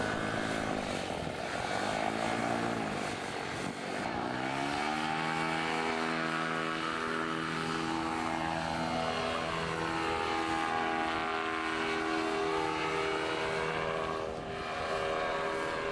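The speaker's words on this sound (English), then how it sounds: "This is Eric Dufour getting ready to fly the Axis Power Vega" The engine and propeller of a powered paraglider drone continuously. The note rises and falls in pitch as the craft passes, a loud, sustained buzzing whine with no talk.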